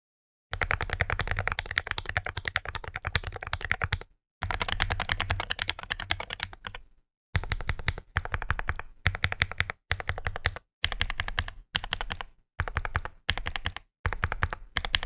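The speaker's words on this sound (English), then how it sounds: "The cluster on the left has lubed switches and springs, while the cluster on the right does not." Rapid clicking of a mechanical keyboard with lubed and unlubed switches and springs being typed on, fast and continuous in bursts separated by brief silent gaps, close up with no voices.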